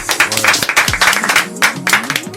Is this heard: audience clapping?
yes